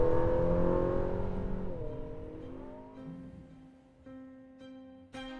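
A Ferrari SF90 XX on the Fiorano track, its engine note falling steadily as the car slows, tonal whine dropping in pitch with a few brief blips near the end; no talking.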